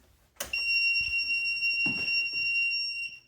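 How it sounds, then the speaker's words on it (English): After a soft thump, a walking pad treadmill gives a piercing high electronic beep on power-up, sounding continuously for a few seconds, nearby and loud, with faint knocks underneath. "this really annoying beep when you turn it on"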